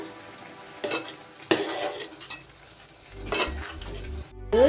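A spoon stirs spinach and ridge gourd dal in a pot, with scraping and clinks against the metal, a soft bubbling sizzle beneath, and a few sharper knocks spaced across the moment.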